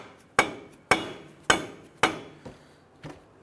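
A hammer taps a rear axle into place on a 2006-2010 Hummer H3 during a wheel bearing replacement, giving four sharp metallic strikes at a steady pace followed by two lighter taps, close and alone.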